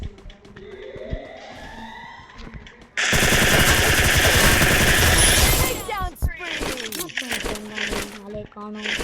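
Rapid automatic gunfire in the video game Free Fire, a dense loud burst of about three seconds amid other game effects, with someone talking before and after.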